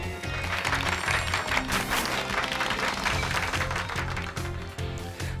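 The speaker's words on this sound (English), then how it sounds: "Give Pikachu a round of applause" Audience applause for Pikachu in the Pokémon Violet video game, a sustained burst of many hands clapping over a faint musical backdrop that tapers slightly near the end.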